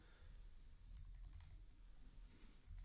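Quiet keys tapped on a computer keyboard in a short burst, faint and close over a low background hum.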